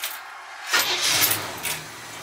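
The large engine of a Grumman Kurbmaster step van cranks briefly and catches, then settles into a loud, steady idle close by.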